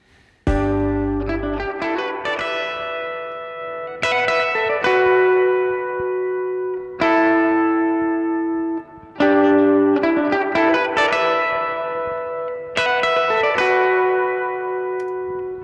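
Electric guitar riff from a song demo, played through effects with echo and reverb: repeating sustained chordal phrases that restart every few seconds, loud and alone without any voice.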